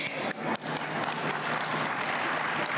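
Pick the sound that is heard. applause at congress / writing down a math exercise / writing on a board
applause at congress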